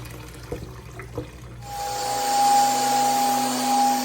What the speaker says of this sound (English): Dirty water dump from those floors.